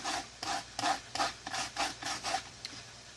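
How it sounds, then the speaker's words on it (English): A popsicle stick being lightly sanded by hand, with a steady series of soft rasping strokes, about eight in a row, close and fairly quiet, with no voices. "Lightly, lightly, lightly sand."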